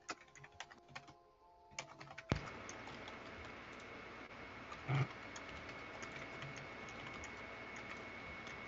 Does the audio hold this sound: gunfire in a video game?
no